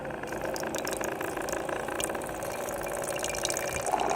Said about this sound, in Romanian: Hai să umplem cu apă.